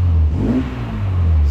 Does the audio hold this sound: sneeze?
no